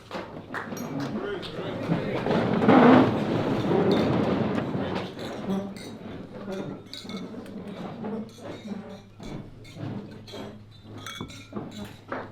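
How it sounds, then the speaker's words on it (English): Glasses clink during a groom's wedding toast as guests raise them together, a burst of overlapping chinks and murmuring voices swelling briefly in a busy room before the chatter settles back down. "if everyone could please raise a glass to Ruth"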